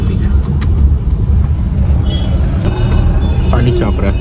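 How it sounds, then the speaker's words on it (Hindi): Road traffic heard from inside a moving car on the way to Victoria Memorial in Kolkata: a constant loud engine and road rumble with faint horns and other vehicles passing, under talk. "बहुत ज़्यादा ट्रैफिक है"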